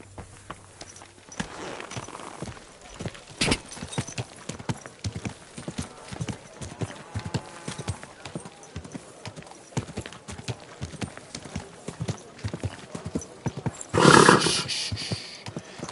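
In the medieval video game Kingdom Come: Deliverance II, a horse's hooves clip-clop steadily and close with quieter footsteps, ending in a loud whinny near the end.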